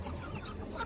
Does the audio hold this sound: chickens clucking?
yes